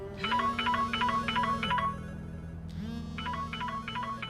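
Telephone ringing with an electronic ringtone, two bursts of rapid warbling chirps over a low tone, separated by a short pause, clear and close with no talk.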